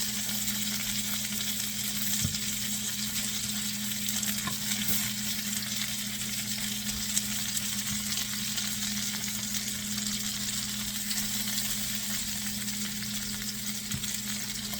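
Fennel and radicchio browning in a frying pan give a steady, even sizzle with faint crackles and a low kitchen hum, unbroken and without talk.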